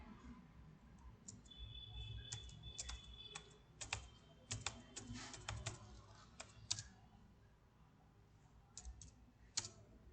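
Fingers tap quickly on a computer keyboard, with irregular bursts of sharp close clicks and brief pauses between words, over a quiet room background with no voices.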